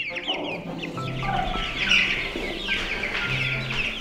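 Week-old Bresse chicks cluck softly and repeatedly nearby, with a few sharper calls rising above a low farmyard background.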